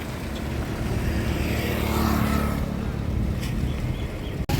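A just-sold car pulls away and drives off, its engine a steady broad rumble that swells slightly and then recedes, with a sharp click near the end and no talk.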